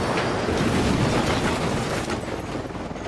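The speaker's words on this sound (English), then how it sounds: "Shit, helicopter's on me." An in-game helicopter in Ghost Recon Wildlands during combat, heard as a loud, continuous broadband roar that holds steady throughout and eases slightly toward the end, with no talking.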